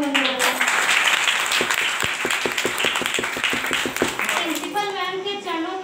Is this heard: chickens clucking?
no